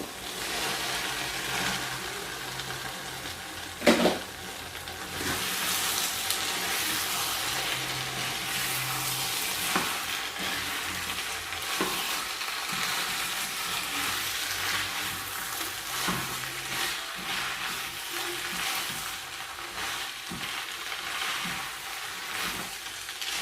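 Red kidney beans being added to a cooking pot and stirred, with a steady broadband frying sizzle throughout and a sharp clank near the start as the beans go in.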